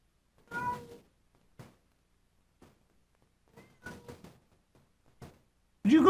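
A cat meows indoors, several short scattered cries across the stretch, then a sudden much louder meow at the end.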